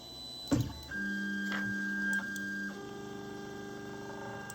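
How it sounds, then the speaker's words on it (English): An Ender 3 Pro 3D printer's stepper motors whine in steady tones as the print head moves to its auto home position, the pitch shifting between axis moves, with small clicks, fairly quiet and close. "now we'll see the print head go to its auto home position"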